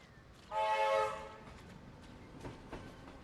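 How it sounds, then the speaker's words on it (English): A train passes by in a video game, marked by a short horn blast followed by a quieter rumble that fades away, with a few faint clanks at the end. "See the train pass by."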